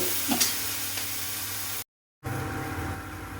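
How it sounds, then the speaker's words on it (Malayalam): Green chillies and coconut frying in oil while being stirred give a steady hissing sizzle with light scrapes, broken by a short silent gap before it resumes. "ഇതൊന്ന് നന്നായിട്ട് ഫ്രൈ ആയിട്ട് വരുന്നവരെ നമുക്കൊന്ന് ഇളക്കി"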